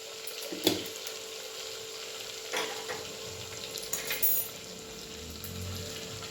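Cumin seeds sizzle steadily in hot oil for a pulao, a continuous close frying hiss with a few brief stirring clicks and scrapes, no talking.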